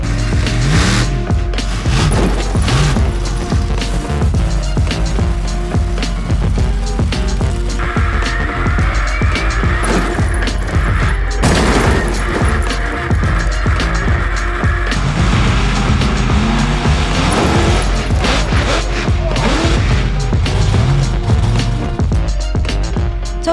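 A home-built monster truck assembled from lorry and digger parts rumbles and crunches over cars, a loud, continuous engine roar mixed with metallic crashing and scraping throughout.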